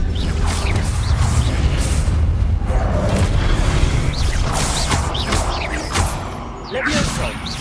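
Expelliarmus spell cast during a boss fight in a video game, heard as repeated booming impacts and whooshing bursts in a loud, dense battle mix.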